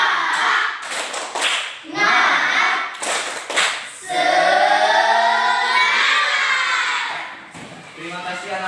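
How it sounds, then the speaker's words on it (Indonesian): Classroom children chant and clap along in a spirit cheer, bursts of group clapping and shouting alternating with a sustained sung chant, loud and close, with a teacher's voice leading. "Tepuk semangat."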